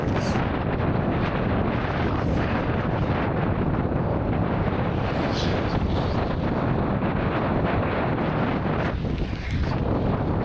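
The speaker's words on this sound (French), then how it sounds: "c'est tellement fort comme vent" Strong wind in Iceland roars and buffets the microphone continuously, a loud, dense rumbling blast with no letup and no clear voices.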